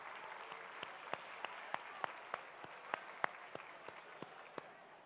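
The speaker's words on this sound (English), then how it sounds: "join me in a round of applause for Melody of China" Conference audience in San Francisco applauding for the Melody of China performers, a steady soft patter of clapping with sharp individual claps standing out near the microphone.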